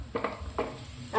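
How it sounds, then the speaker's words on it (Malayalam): Fish pieces frying in a pan for meen pollichathu, a faint steady sizzle broken by a few soft stirring or turning scrapes. "അങ്ങനെ നമ്മുടെ മീനെല്ലാം നമ്മൾ ഇട്ട് കൊടുത്തിട്ടുണ്ട്. ഇത് നല്ലോണം ഒന്ന് ഫ്രൈ ആയി വരട്ടെ."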